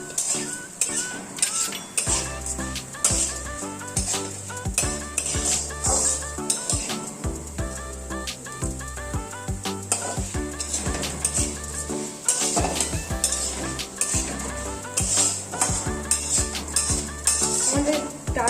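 Dal being dry-fried and stirred in a pan for sabu khichuri, with repeated scraping and clinking of a spoon against metal in an irregular rhythm, close and fairly loud, over a faint sizzle.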